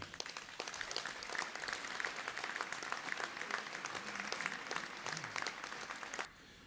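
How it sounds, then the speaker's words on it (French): A crowd applauds at a New Year's greetings address in Melun Val de Seine, dense sustained clapping that holds steady and then cuts off abruptly just before the end. "je crois qu'on peut les applaudir"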